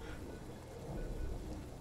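Toxic rain falling in the video game Surviving Mars, a steady soft wash of rainfall with low rumbling underneath, faint and continuous with no talk.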